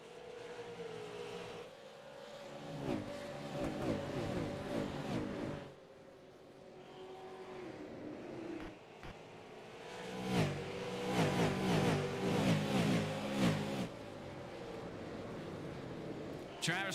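Race cars circle the track during the opening lap of a 125 race, their engines droning and revving as they pass at a middle distance, heard under a commentator's running talk.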